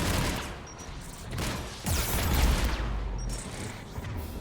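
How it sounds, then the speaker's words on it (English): Particle rifle fire and explosions in Mass Effect 3, a noisy rolling barrage of crackling blasts and booms, swelling midway with a heavy low rumble, with no talking. "It's explosions everywhere!"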